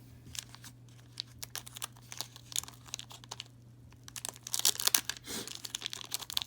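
A 1987 Donruss baseball card wax pack is torn open up close, with irregular crinkling and ripping of the wrapper over a low steady hum, growing busier toward the end.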